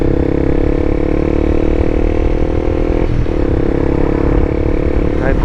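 A motorcycle engine runs loud and close, a steady rumbling drone that briefly dips and shifts pitch around the midpoint as it downshifts, with a voice speaking over it.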